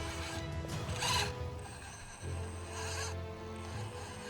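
An Injora ROVERIN OR30 RC crawler motor runs at about a quarter throttle, giving a faint whirring, grinding drone with a shift in pitch partway through and no talk.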